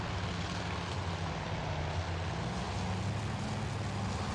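Japanese Zero fighter planes in the naval air combat game Task Force Admiral, a steady, dense propeller engine roar that holds without a break, loud and close, with no talk.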